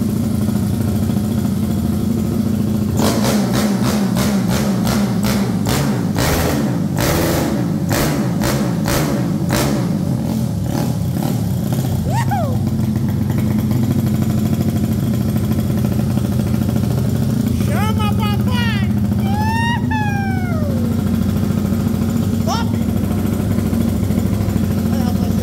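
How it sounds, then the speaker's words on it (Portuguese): Motorcycle being push-started at a track, with a burst of rapid thumping engine firing, then idling and a few revving whines, while people talk nearby throughout. "Vou lá dar um tranco na moto ali."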